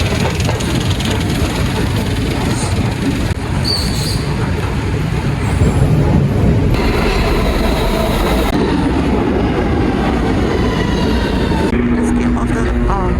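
A loud, steady rumble and rattle of a New York subway C train at Utica station, with high squeals and shifting tones, filling the space continuously for several seconds.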